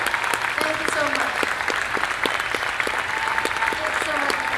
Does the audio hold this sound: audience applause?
yes